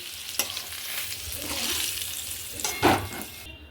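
Potatoes lifted out of hot frying oil in a pan for a Bengali goat meat curry, with a steady sizzle, scraping and clinking of a spatula, and a couple of sharper knocks, fairly close, with no speech.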